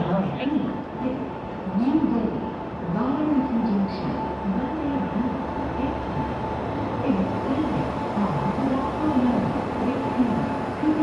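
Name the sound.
train arriving at the station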